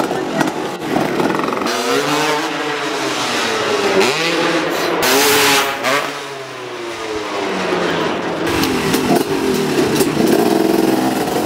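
A freestyle motocross motorcycle engine, a modified motocross bike, revving repeatedly with rising and falling whines, loud and close, while someone talks over it.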